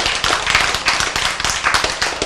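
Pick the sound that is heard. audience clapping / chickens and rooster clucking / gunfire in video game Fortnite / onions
audience clapping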